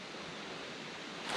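Creek water flows on a nature walk beside a creek that feeds a pond, a soft, even, faint rushing wash with no voices, swelling slightly at the end.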